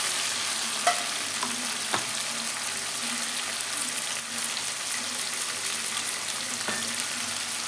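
Roop chand fish frying in hot oil with cut potato pieces, a steady loud sizzle with occasional stirring scrapes and small pops throughout.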